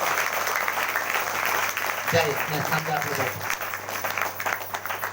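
A church congregation at a Sunday service applauding loudly, a continuous wash of clapping with a voice calling out partway through over it.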